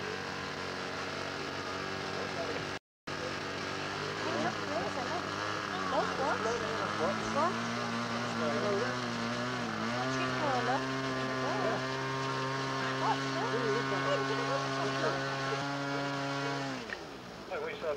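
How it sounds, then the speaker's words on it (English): A 50cc two-stroke engine on a model helicopter at a 1992 model airshow drones steadily with a strong buzzing harmonic whine, holding its pitch throughout and briefly dipping near the end, with a commentator talking over it. "50cc two-stroke engine."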